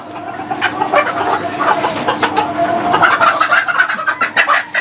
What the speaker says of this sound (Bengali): এখন দেখাবো হচ্ছে সিল্কি মুরগি